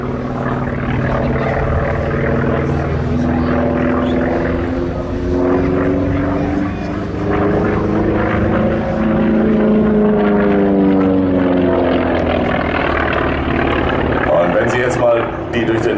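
A T-28B Trojan warbird with a single Curtiss-Wright 1820 nine-cylinder radial engine of 1,400 horsepower drones loudly throughout a display flight, its tone rising and falling as it passes, with an announcer talking over it.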